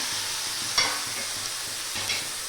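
A pan sizzling softly as half a tomato is stirred in, with a couple of short scraping strokes over a faint steady hiss.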